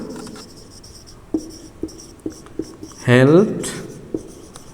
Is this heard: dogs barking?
no